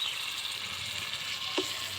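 Chepa shutki, a dried fish from Mymensingh, frying in hot oil gives a steady, fairly soft sizzle with a faint scrape of stirring near the end, and no voices.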